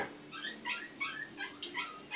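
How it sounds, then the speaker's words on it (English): A dog yelps and whines in a training setting, about eight short, high-pitched bursts in an uneven rhythm, fairly close and moderately loud, with no one talking. "Does your canine companion bark and bark and bark nonstop?"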